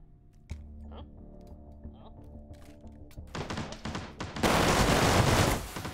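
A gun in the VR shooter H3VR firing despite a failure to lock, with a malfunction mod, heard as a sudden loud burst after quieter handling clicks and clunks, the blast briefly filling the scene before settling.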